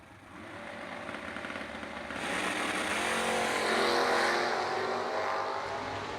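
A Camaro drag race car at a Sunday drag race event, engine roaring loud and building as it launches, swelling to a sustained howl and holding strong throughout.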